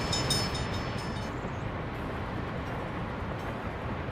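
Trains rolling through a city in the game Workers and Resources, a steady, loud rumble of rail cars that stays even throughout with no talk over it.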